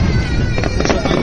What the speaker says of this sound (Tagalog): Kasi nanonood pa kami ng fireworks.